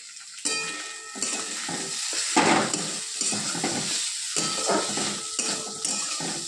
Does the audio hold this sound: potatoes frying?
yes